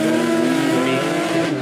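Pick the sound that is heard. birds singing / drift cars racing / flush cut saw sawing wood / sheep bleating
drift cars racing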